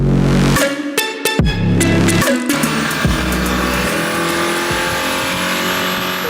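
A Mercedes-AMG engine with an electric turbocharger runs on a dyno, loud and close. It blips and revs in sharp bursts, then settles into a sustained high roar with rising and falling tones.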